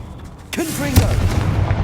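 A Confringo fire spell from the Hogwarts Legacy video game bursts in a sudden, close booming blast about halfway through, its rumble lingering at steady loudness to the end, with a short voiced cry over the impact.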